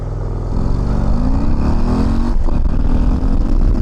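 A Harley-Davidson CVO ST motorcycle pulls hard from a standstill to 60 mph on reduced throttle, its loud, close engine note climbing steadily in pitch with brief dips at gear changes.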